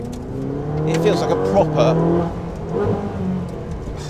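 Cabin sound of a Ferrari 458 Speciale, its engine note rising and falling as it revs through the gears, loud and close, with someone talking over it.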